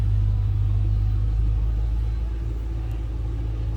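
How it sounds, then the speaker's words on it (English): A 2005 Ford Mustang Saleen S281 coupe idles with a deep, throaty, steady low rumble, close and unbroken with no throttle changes. "Throaty little idle."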